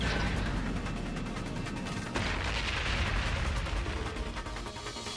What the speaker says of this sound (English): Is that a long-range orbital cannon?